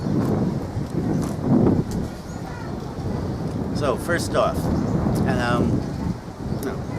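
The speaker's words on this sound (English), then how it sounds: "Like I said, it's windy." Steady wind buffets the microphone with a low rumbling roar, loud and constant throughout, with faint voices and whistling noises mixed in.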